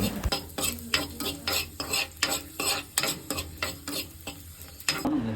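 Raisins frying in ghee in a bowl, a bright sizzle under a regular rhythm of spoon scrapes and clinks against the bowl, close and continuous, with no talking.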